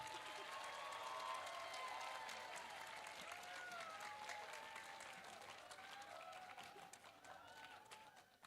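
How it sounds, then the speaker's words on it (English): An audience at a nutrition day lecture applauds, a faint, steady patter of many hands mixed with raised voices and cheering that gradually tapers off toward the end. "Guys, please give applause to all of them."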